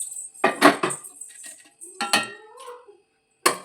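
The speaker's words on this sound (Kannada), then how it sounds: "ಇದನ್ನು ಮಿಕ್ಸರ್ ಜಾರಿಗೆ ಹಾಕೋಬಿಡೋಣ" Fried spices scraped from a pan into a mixer jar make scattered metallic clinks and scrapes in short bursts separated by quiet gaps, close to the listener and with no talking.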